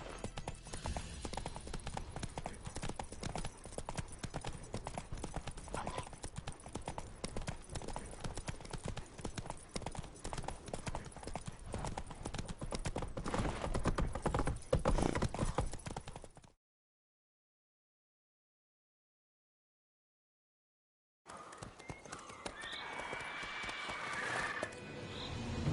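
A horse gallops in The Witcher 3, with rapid rhythmic hoofbeats running continuously, then a few seconds of silence before the hooves resume.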